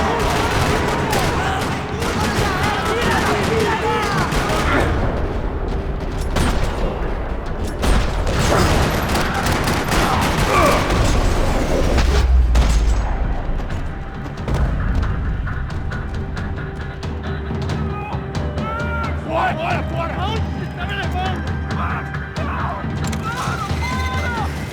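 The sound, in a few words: gunfire in a video game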